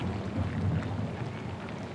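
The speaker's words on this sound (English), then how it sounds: "Oh, when will this storm let up? It's been going all morning." Steady rain with low rumbling thunder in a storm scene from the video game Pentiment, a continuous broadband wash holding an even level with deep rolling undertones throughout, no voices.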